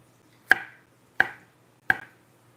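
Three sharp knife chops on a cutting board slicing green pepper for Southern fried cabbage with bacon, evenly spaced about 0.7 seconds apart, each a crisp close thunk with a short decay, in an otherwise quiet kitchen.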